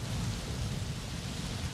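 Steady rain falls in an Xbox building game, a dense, even hiss of downpour with a low rumbling undertone and no voices.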